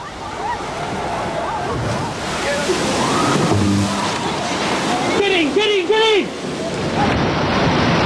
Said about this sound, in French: Quand l'océan devient comme fou et monte à l'assaut des terres.